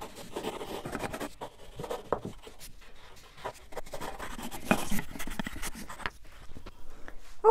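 A heavy Lyra pencil goes over drawn lines on paper in a still-life sketch, a soft, close scratching of quick irregular strokes with brief pauses, heard alone.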